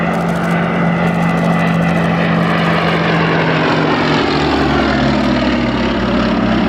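A Piper L4 propeller aircraft flies past at the Shuttleworth airshow, its engine drone loud and steady with the pitch gradually falling as it passes.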